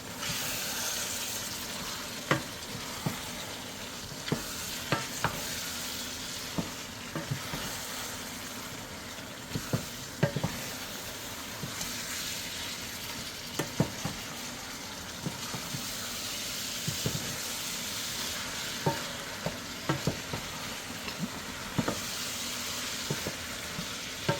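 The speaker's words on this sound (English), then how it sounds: "So give that a good stir." A pot of okra soup sizzles and bubbles steadily as it is stirred, with soft scraping knocks from the spoon recurring every few seconds over a constant frying hiss.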